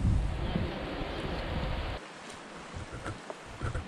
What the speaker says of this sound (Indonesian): Tuh kan angin kencang.